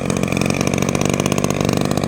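A 52cc petrol two-stroke brushcutter engine running loudly and steadily nearby, its buzzing drone holding an even pitch throughout.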